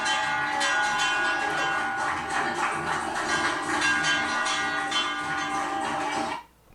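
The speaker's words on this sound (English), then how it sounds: "People are ringing the bell" A bell rung by people at a cancer support center, bright ringing strokes repeating steadily and close for several seconds before stopping abruptly.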